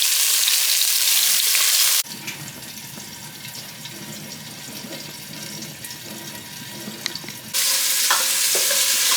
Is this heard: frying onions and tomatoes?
yes